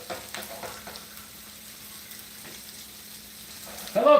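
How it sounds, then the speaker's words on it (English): Steak sizzles in a hot pan with a soft, steady frying hiss at moderate level, a few faint clicks and pops, and a louder rustle right at the end. "Thank goodness the steak only needs a few seconds per side."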